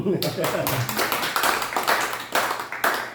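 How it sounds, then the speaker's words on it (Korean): Applause fills a church fellowship worship gathering of Seoul High School's 26th class alumni, a steady crowd clapping of dense, continuous taps throughout. "박수 한번 보낼까요?"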